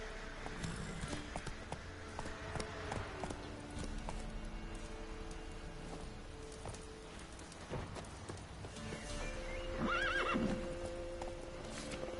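Roach, the horse in The Witcher 3, neighs and whinnies while hooves clip-clop at a gallop over a busy game soundtrack, with a louder whinny late on and faint voices in the background.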